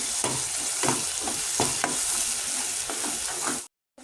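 A spoon scrapes around a frying pan of masala in quick repeated strokes over a steady sizzle, close and fairly loud, ending abruptly.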